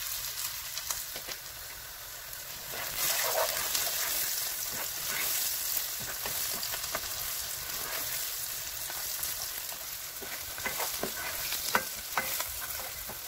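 Onions frying in a pan on the stove, cooked until they change colour, with a steady sizzle and repeated scrapes and clinks of a spoon stirring them throughout.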